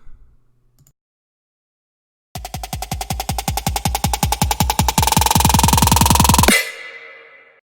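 A trap snare roll starts at a steady pulse and speeds up into a dense, rising pre-drop build, then stops abruptly, leaving a short tail.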